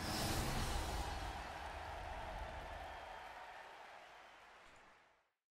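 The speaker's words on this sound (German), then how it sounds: "Jetzt bitte ich einen tosen Applaus für unsere Arena-Leiter." Sustained applause from a large crowd fills a Pokémon stadium at an opening ceremony, a steady dense roar of clapping that holds evenly and then fades away to silence.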